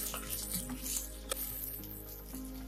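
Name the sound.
sliced onion and curry leaves sautéing in a pan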